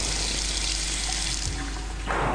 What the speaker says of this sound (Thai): น้ำไหลต่อ